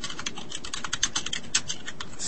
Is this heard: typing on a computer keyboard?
yes